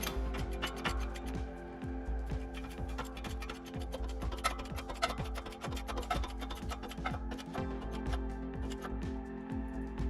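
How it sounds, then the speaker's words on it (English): A new bearing being pressed onto a differential axle from the limited-slip differential of a BMW E36 M3, giving a steady run of close, sharp metallic ticks and clicks in a fast, fairly even rhythm, with no voice over it. "Okay, here's the other axle, the other side of the LSD. Pressing in the new bearing."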